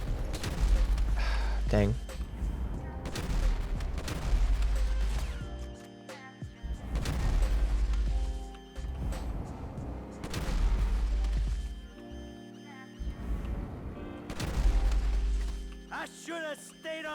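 In GTA V, guns held by dead enemies keep firing on their own. Loud, rough volleys of gunfire come in repeated waves over a game soundtrack, with a brief spoken exclamation in between.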